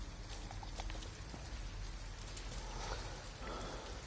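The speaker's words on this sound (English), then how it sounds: "At least we'd be out of the rain." Steady rain falls in the video game Detroit: Become Human, a dense, even hiss of drops spattering on surfaces, moderately loud and unbroken throughout with no voices.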